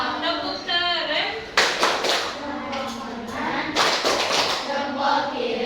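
A classroom group claps together in two loud bursts, with children's voices and chatter mixed in throughout.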